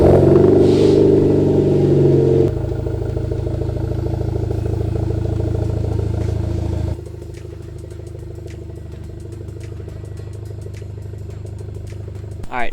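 A Hyundai Veloster Turbo being driven out of a garage, its engine a steady low drone that idles and creeps along, dropping in level twice as it moves, with a brief clatter near the end.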